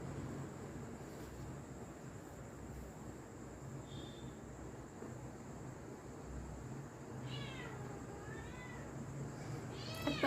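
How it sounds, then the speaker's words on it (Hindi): A house cat meows a few times indoors, faint short cries standing out against a steady noisy background hum, with a couple of calls near the end. "हमारे घर में एक बिल्ली है तो वो म्याऊं म्याऊं करती रहती है"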